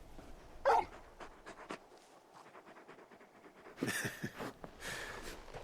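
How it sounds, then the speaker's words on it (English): A big dog in the Final Fantasy XVI video game pants rhythmically in quick, fairly quiet breaths, with a few louder huffs, and no one speaks. "You're just a big puppy, aren't you? A very big puppy."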